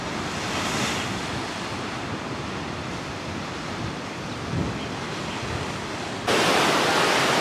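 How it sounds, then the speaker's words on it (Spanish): Ocean surf rolls steadily onto a beach, a continuous loud wash of breaking waves with wind buffeting the microphone, swelling into a louder surge near the end; no one speaks. "One of the nicest beaches I've been to."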